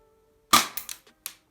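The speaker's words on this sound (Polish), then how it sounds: "Także dobra, przejdźmy do drugiego strzału. Tym razem z jednej ręki." A single sharp one-handed shot from a Glock-style C7 pistol cracks close and loud, followed by a few short clattering echoes or impacts that quickly die away.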